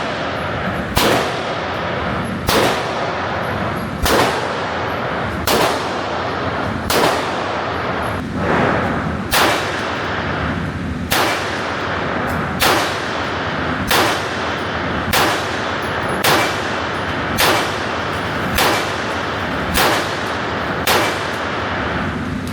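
A Sig Sauer P211 GTO pistol fires a long series of single shots at steady, unhurried intervals, each one a sharp, loud crack ringing over continuous background noise.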